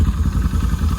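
A 2023 Can-Am Outlander XMR 1000R ATV with a new ECM and no exhaust fitted, idling close by with a loud, rough, rapidly pulsing low rumble that runs steadily throughout.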